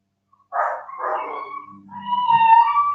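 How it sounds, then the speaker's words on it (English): A neighbouring dog barks and yelps a few times, then lets out a higher drawn-out howling whine, loud and fairly close after a moment of silence, with no talking. "Is a dog being attacked or something next door?"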